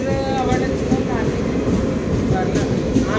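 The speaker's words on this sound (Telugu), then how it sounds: "చూసారా, మా ట్రైన్ వచ్చింది." A passenger train rumbles into a station with a steady, loud rolling roar and faint squeals, while voices chatter in the crowd nearby.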